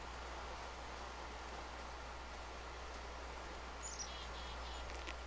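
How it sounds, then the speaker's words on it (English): Steady rain falls in the blocky sandbox game Minecraft, a dense, even hiss that never lets up, with a few faint high chirps near the end and no voices. "this fucking rain is like killing my frame rate here"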